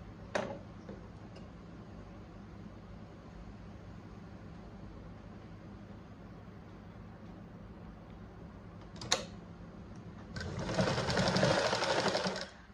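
After a few faint clicks, a sewing machine topstitching a flipped blouse neckline runs in one brief, moderately loud burst near the end of an otherwise quiet stretch.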